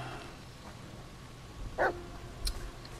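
A dog in The Medium gives a single short bark near the end, faint and alone over a low, quiet ambient rumble, with a tiny clipped yip just after.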